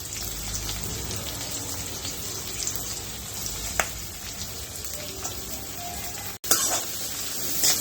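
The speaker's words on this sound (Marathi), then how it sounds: "कांदा आणि मिरची व्यवस्थित भाजून घेऊयात आपण" Chopped onion and green chilli frying in oil in a pan for a wild vegetable bhaji, a steady close sizzle and crackle throughout with a couple of brief clicks.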